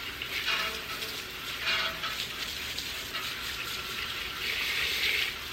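Water sprays steadily while rinsing out a car wheel well, a continuous hissing gush with slight surges, close and fairly loud throughout.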